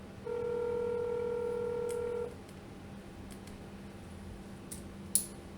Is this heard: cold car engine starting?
no